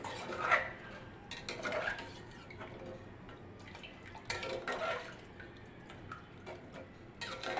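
Moraiya millet and water are stirred in a pot, giving soft intermittent clinks of a spoon against the vessel and faint watery swishes, quiet and without speech.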